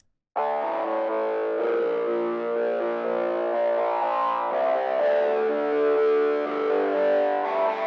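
A sustained distorted synth tone in a house music track, with a gritty, guitar-like buzz, plays steadily for several seconds, shifting notes slightly.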